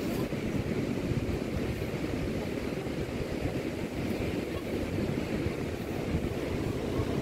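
Sea waves wash along a seashore lined with nipa huts and coconut palms, a constant soft rushing roar mixed with wind noise, fairly faint and steady, with no voices.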